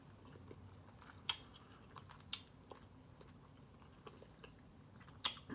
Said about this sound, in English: I'm trying to chew with my mouth closed so I'm not smacking all over the place.